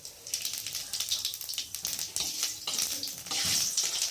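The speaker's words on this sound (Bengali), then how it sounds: "জিরেটা একটু ভালো করে ভেজে নেব" Cumin seeds crackle and sizzle in hot oil for a Bengali fish curry tempering, a steady close frying hiss with scattered pops that swells louder toward the end.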